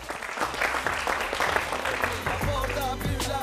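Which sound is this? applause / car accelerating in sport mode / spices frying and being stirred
applause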